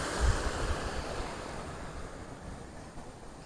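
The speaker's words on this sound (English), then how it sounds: "We have the water collecting and going downhill so that it forms one big tributary, and we have the waterfall." A waterfall and flowing stream in Karura forest send up a constant broadband rush of water, loud and close, with no voices over it.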